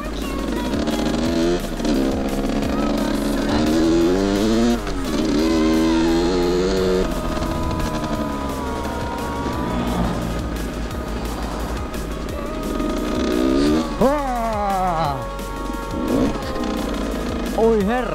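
A motorcycle pulls away hard after being put into gear, its engine note climbing in repeated rising sweeps with wind rumble, while a rider talks over much of it.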